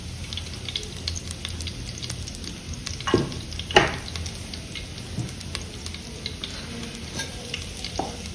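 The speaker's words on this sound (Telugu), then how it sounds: "ఇప్పుడు కుండ వేడెక్కిందండి, ఇందులో ఆయిల్ నెయ్యి వేసుకుందాం" Oil and ghee sizzling in a heated clay pot for pot biryani, a soft steady frying crackle with occasional louder pops and a couple of distinct scraping clinks, no talking.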